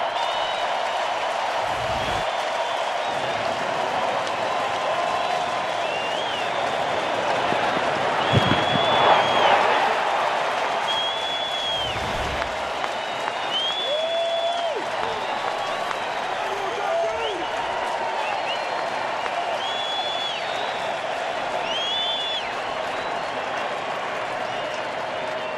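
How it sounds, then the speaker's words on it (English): Baseball stadium crowd applauding batter Jay during an NLDS playoff game in October 2012, a sustained distant roar of clapping with whistles and cheers rising midway, while a broadcaster talks over it. "applause for him."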